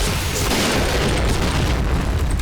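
Bomb detonation in the Point Blank shooter game during an M200 sniper round: a dense, loud, sustained booming rumble filling the whole stretch with no pauses, no talk over it.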